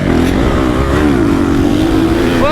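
A motocross dirt bike engine with over-ten-year-old suspension revs steadily and loudly up close, its buzzing drone rising and falling slightly without pause.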